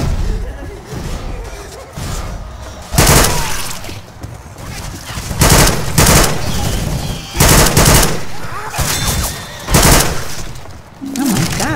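Gun firing in Left 4 Dead 2, repeated loud bursts of rapid shots broken by short pauses, mixed with shattering impacts and a voice talking.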